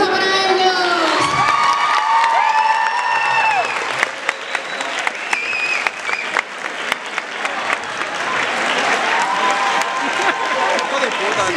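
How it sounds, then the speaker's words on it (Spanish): An audience at a concert in Mallorca bursts into applause mixed with cheering and shouts, loud and sustained throughout, with some voices calling out over the clapping. "¡Un aplauso para ellos!"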